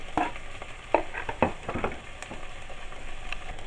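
Onions softening in a frying pan, a gentle crackling sizzle with a few sharper pops and stirring clatters near the start, settling into a steady low fry.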